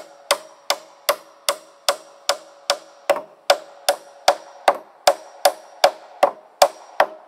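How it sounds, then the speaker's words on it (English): Steady hammer blows driving nails into a spliced wooden beam for a firewood drying shed, about fifteen sharp, evenly spaced ringing strikes, close and loud, with no talking. "that's not the best hammering job, but it got the job done"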